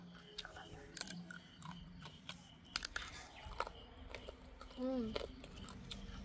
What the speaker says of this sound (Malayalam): ടേസ്റ്റ് നല്ല കറുമുറ ഇരിക്കുക.